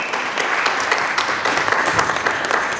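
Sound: loud applause from the audience

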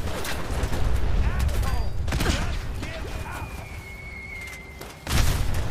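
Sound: bomb explosions in the video game Fallout 4

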